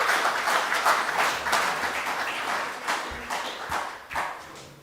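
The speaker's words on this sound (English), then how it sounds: "Give another round of applause, ladies and gentlemen." Audience clapping at a bush club awards ceremony, a dense crowd applause that rises and falls in waves with a few sharper bursts near the end, fairly close and steady throughout.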